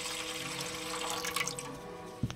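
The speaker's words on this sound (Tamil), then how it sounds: "கொஞ்சம் தண்ணியை ஊற்றிக்கணும்." Water streams into a pan or kadai on the stove while cooking, a continuous soft splashing and trickling pour, fairly quiet and close, ending with a small clink.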